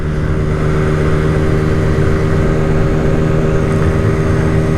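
A 50cc GY6 scooter engine drones steadily while being ridden, a close, loud, even hum with no change in pitch and no talk.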